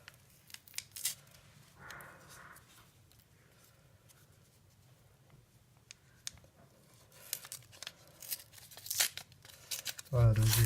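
Tearing open a packet of pre-moistened cleaning wipes, used while fitting a tempered glass screen protector to a Samsung Galaxy phone: faint crinkly packaging rustles through the middle, then a louder, brief tearing rip at the end, with quiet talk nearby.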